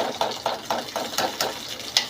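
Ghee heated in a pan for maida halwa gives a short run of close, rhythmic crackling bursts that repeat at a steady pace, with no talk.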